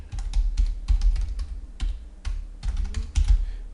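Fingers type on a computer keyboard in quick clusters of close, distinct key clicks with brief pauses between bursts, and no voice.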